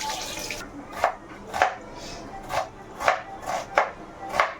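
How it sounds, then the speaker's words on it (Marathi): Onions chopped on a board, with about seven evenly spaced knife thuds at roughly a beat per half second, close and moderately loud. A brief hiss comes at the start. "भाजेपर्यंत आपण कांदे वगैरे कापून घेऊया"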